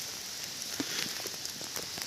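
Rain falls in a forest during a morning mushroom-hunting walk, a soft steady patter of drops on leaves with scattered louder taps, fairly quiet and continuous with no voices.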